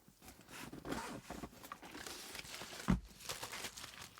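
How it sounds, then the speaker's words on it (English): Quick tearing rips of hook-and-loop Velcro on a Pedaltrain Metro Max pedalboard bag, several close, dry bursts across a few seconds with one sharper peak. "Very rippy Velcro."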